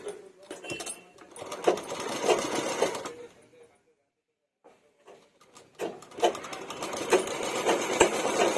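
A sewing machine stitches a blouse being altered, running in bursts of rapid mechanical chatter close by, stopping for a quiet pause in the middle before starting again.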